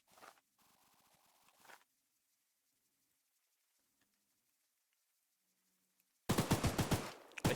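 A gun fires in a short, loud burst of rapid shots in the horror game Choo-Choo Charles. It comes after a long near-silent pause, with fainter scraping and clicking at the start.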